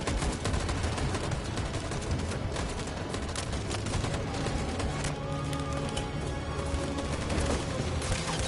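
Sustained gunfire in the video game Detroit, rapid overlapping shots and bursts forming a dense, loud fusillade that runs continuously without pause, with no clear talking.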